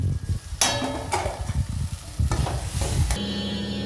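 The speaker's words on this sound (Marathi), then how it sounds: "आपला मसाला परततोय ते याला चांगल्या प्रकारे परतून द्यायचं आहे" Masala sautéing in a hot pan for a Marathi matki (moth bean) curry, with a steady close sizzle and repeated scraping stirs of a spoon against the pan, heard alone.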